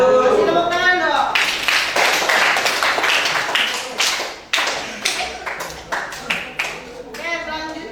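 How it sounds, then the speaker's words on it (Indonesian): A class group gives scattered hand claps after a student presentation; voices come first, then loose, uneven claps and taps pop out one after another without forming a full wave of applause. "Kasih tepuk tangan dong."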